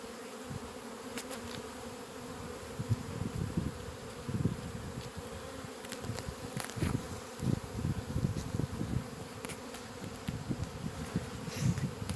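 Honeybees swarm around an open hive during a demaree, a dense, continuous buzzing drone with individual bees zipping close past, steady and fairly loud throughout without voices.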